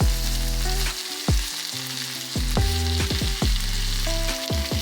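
Chicken innards sizzle and sauté with spices in a hot pan, with a loud steady frying hiss broken by repeated scraping stir strokes at an irregular rhythm.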